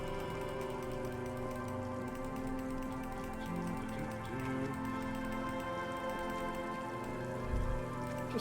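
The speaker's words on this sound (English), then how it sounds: "Just enjoying the nice winter rain." Steady rain patters continuously in the video game Disco Elysium, an even wash of drops on surfaces with faint tonal game ambience underneath and a low thump near the end.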